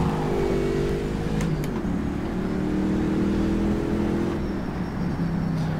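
A Panoz Roadster's engine drones steadily at Putnam Park in the rFactor 2 racing game, a continuous loud hum with slight pitch shifts as the car drives on without letup.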